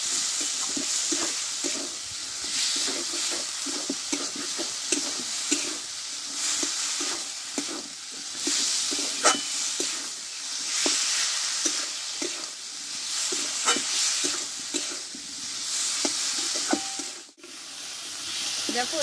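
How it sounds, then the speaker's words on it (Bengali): Drumstick (moringa) stalks are sautéed with spices in a hot pan. A continuous sizzle and hiss runs throughout, with repeated scraping and stirring strokes from a spatula close by. "দিয়ে একসঙ্গে মশলার সঙ্গে ভালোভাবে কষিয়ে নেবো ডাঁটাটা"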